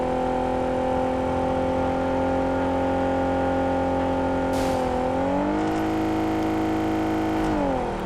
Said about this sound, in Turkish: Arkadaşlar ben, çok iyi sürüyorum arabayı.